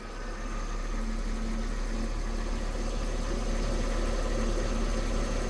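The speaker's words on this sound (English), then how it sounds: "This engine is so completely different engine than before. Earlier the idle was very rough." A Mercedes-Benz M272 engine idles after an intake manifold replacement, giving a steady, smooth low hum with a constant drone underneath, heard alone and at moderate level.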